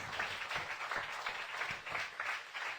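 An audience at a Christian worship gathering claps in offering to the Lord, a fairly faint but steady patter of applause that runs throughout, with no speech over it.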